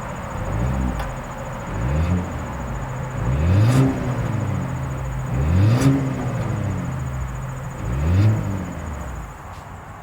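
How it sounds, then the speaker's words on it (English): A 2026 Volvo XC60 with dual exhaust revs repeatedly, four or five rising engine swells spaced about two seconds apart, close and steady with a faint high whine behind them and no talking. "As always, here is that exhaust clip."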